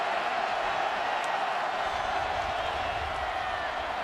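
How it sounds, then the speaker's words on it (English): Crowd of Minnesota football backers at a Nebraska at Minnesota college game, producing a continuous loud roar of stadium noise that holds steady throughout. "encouraging this crowd of Minnesota backers to be loud"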